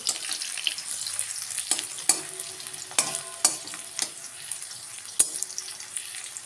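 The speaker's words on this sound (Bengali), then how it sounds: "পেঁয়াজটা কিন্তু অনেকটাই এদিকে ভাজাভাজি হয়ে গেছে" Onions sizzle and crackle steadily in a hot pan, with a few sharp scraping clinks from stirring spread through the clip.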